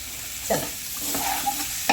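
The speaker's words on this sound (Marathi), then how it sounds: "आता हे चांगलं परतून घेते बघू शकता आता ह्याला फक्त थोडंसं चांगला हा मसाला परतते चिकनला" Chicken with masala being sautéed in a pan, a close sizzle with a few quick scraping stirs of a spoon against the metal, short and moderately loud, no talk.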